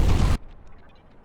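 A single loud artillery blast from Fat Berta in a video game, a sharp booming burst that cuts off abruptly into a faint tail.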